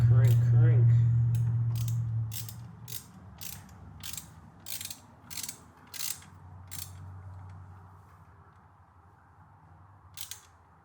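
A wrench cranks on a bolt while fitting a Mini Mantis angle kit on a C5 Corvette, with a run of sharp, evenly spaced ratcheting clicks close by after a low engine-like hum fades, then one last click.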